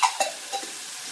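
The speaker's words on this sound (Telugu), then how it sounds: "జింజర్ గార్లిక్ పేస్ట్ కొంచెమే వేస్తున్నాను" Ginger garlic paste hits a hot pan for millet pulav, giving a couple of short stirring scrapes and a faint, thin sizzle that quickly fades.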